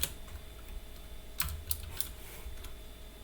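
Someone types quickly on a computer keyboard nearby, producing a quiet patter of soft clicks with a few sharper key strikes.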